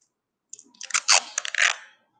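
Adhesive tape pulled and pressed onto a handmade toy ball, a close, short burst of crackling, tearing rips lasting about a second and a half, with no voices.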